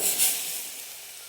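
Smoking-hot oil poured over salted wheat flour sizzles with a bright, airy hiss that flares at once and then tapers off steadily, close and alone.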